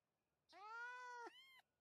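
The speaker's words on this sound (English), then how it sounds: "Let's stand and meow with them." Cats in a Roblox obby game give one clear, drawn-out two-part meow alone against near silence.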